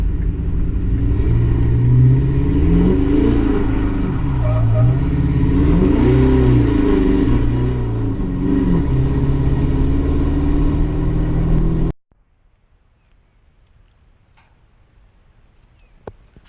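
A Can-Am Outlander ATV on 24x14 tires with 2-inch spacers revs hard on a wet road, its engine rising and falling in loud, repeated surges before cutting to near silence.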